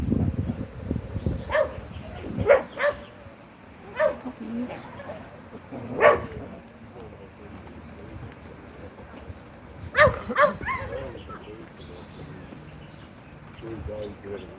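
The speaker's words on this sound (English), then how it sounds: "Puppies." Several puppies whimpering and giving short yips and barks in scattered bursts, with quieter whines between them, heard close by over a murky background.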